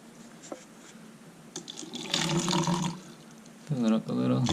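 Water poured into a cup over a pebble while transplanting wandering dude plant cuttings indoors, a soft trickle building into a fuller splashing pour, heard close alongside quiet handling sounds.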